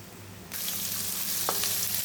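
Onion, carrot, curry leaves, ginger, garlic and dried chillies for upma are stirred in a hot pan, with a close, steady sizzle starting abruptly and a few faint scraping touches of the spoon.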